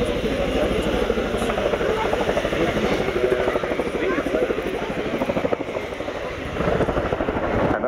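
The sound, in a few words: Chinook helicopter flying at Navy airshow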